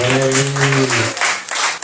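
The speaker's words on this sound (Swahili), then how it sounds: "Pigia Bwana Yesu makofi mazuri." A church congregation at a Sunday service applauds together, a loud, dense burst of clapping mixed with cheering voices that fades out toward the end.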